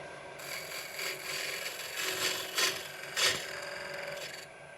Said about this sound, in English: I'm gouging it.